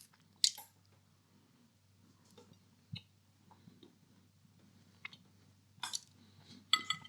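Someone bites into a Mr Kipling Bramley apple pie and chews quietly, soft crunchy pastry bites and sparse squishy mouth sounds close to the mic, with a faint low hum behind.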